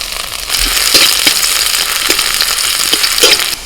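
Chopped garlic hits hot white oil in a wok and erupts into a loud, crackling sizzle that keeps going, with occasional stirring scrapes.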